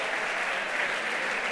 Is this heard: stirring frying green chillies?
no